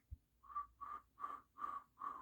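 A person tries to whistle, producing five short, breathy, faint whistle notes in a steady rhythm, close to the microphone with no talking.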